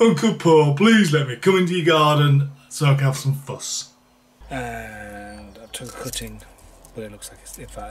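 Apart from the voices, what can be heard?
None of the usual background noises is heard.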